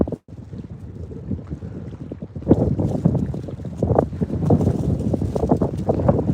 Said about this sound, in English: Dave, the wind is crazy, bro.